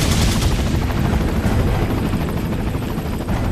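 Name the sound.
helicopter in the video game Resident Evil 4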